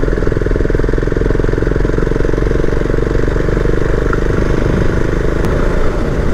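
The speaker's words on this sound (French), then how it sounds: "mais forcément avec le moteur monocylindre" A Husqvarna Vitpilen 701 single-cylinder motorcycle engine drones steadily and loudly while being ridden, a continuous rumbling pulse with wind noise and no break throughout.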